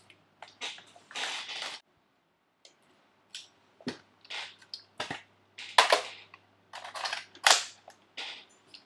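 An M4A1 gun being handled while a red dot sight is fitted, sharp close clicks and snaps in short separated bursts with pauses of near silence between them.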